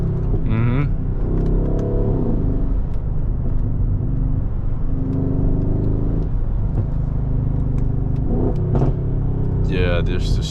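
Mercedes-AMG GLE 63S SUV engine with about 800 hp revving and rumbling loudly throughout, with rising and falling pitch sweeps, while someone talks over it.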